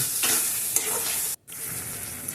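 Duck egg curry masala stirred in a pan with a little sugar, a steady scraping and sizzling that runs close and continuous with one brief pause near the middle.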